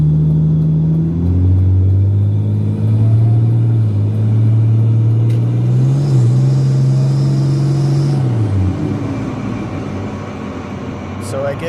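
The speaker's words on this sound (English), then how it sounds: "it starts spooling up around 2500 RPM, and it's making boost by 3000 RPM" Turbocharged BMW E46 engine revving steadily, a low droning rumble rising and falling in pitch over several seconds, loud and continuous inside the car with a faint higher whine above.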